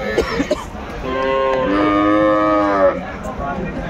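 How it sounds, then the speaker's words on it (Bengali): A single long moo from a young bull calf, drawn out over about two seconds, close by, at a cattle farm in Cumilla, Bangladesh, with faint background chatter around it. "কোয়ালিটি সম্পন্ন গরুগুলো কালেকশন করছে আতাউর ভাই।"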